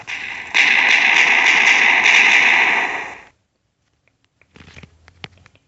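A Minecraft explosion bursts loudly as a broad crackling roar lasting about three seconds, then cuts to near silence followed by scattered faint clicks and taps.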